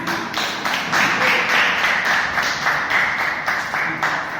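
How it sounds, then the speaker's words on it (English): An audience at a Toastmasters meeting gives a round of applause, a full, continuous wash of clapping from many people held for several seconds in a room. "Round of applause."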